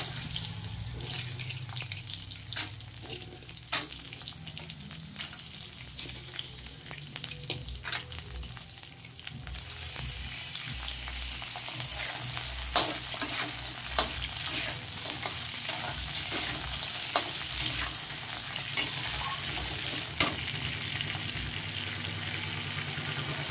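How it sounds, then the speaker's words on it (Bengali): Crab pieces frying in oil in a pan, a steady, fairly quiet sizzle with occasional pops and stirring clinks throughout. "এবার কাঁকড়াগুলো আমি ভেজে নেব"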